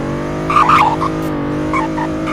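A sports car engine in the Roblox game Greenville revs up and settles, with a steady tonal drone and a couple of short rising bursts, heard close and alone.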